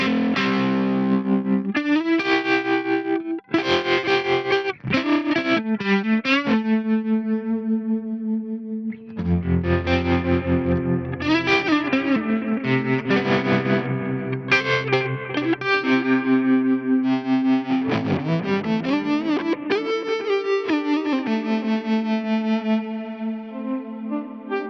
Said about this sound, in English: let's start with the Bassman and let's add like trem, delay, drive, you know, some plex reverb